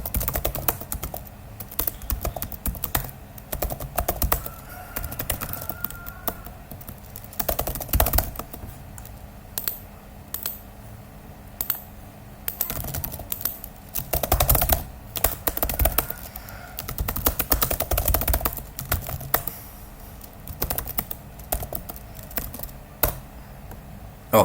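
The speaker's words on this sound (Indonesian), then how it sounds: "Duh, ngetik ulang deh." Bursts of typing on a computer keyboard, clusters of quick key clicks broken by short pauses, close and moderately quiet.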